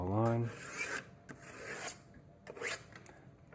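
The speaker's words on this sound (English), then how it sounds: "Draw a line." A pencil draws a line on a wall in quick, close scratchy strokes, a few rasping passes with short gaps between them and no talking.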